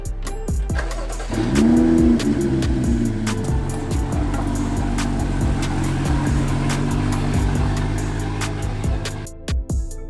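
A BMW F30 engine idles and rumbles nearby, revs briefly, then rolls slowly at low speed into a garage with steady engine hum, close and fairly loud.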